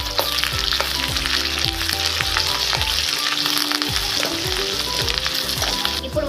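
Frying in a pan for okra pulusu, with a constant close sizzle and crackle and frequent small spatters and pops throughout.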